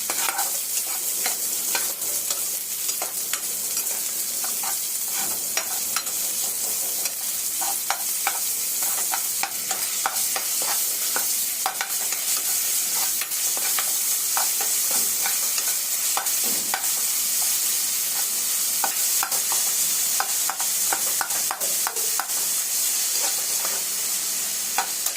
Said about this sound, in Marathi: कांदा व्यवस्थित फ्राय करून घेऊ.